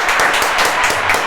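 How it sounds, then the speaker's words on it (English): A short burst of applause from a small group at a podcast interview, dense clapping at close range with no talk. "Round of applause for that."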